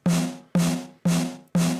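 A saturated snare drum plays through a full-range speaker: four loud, evenly spaced hits, each with a sharp crack and a short ringing decay.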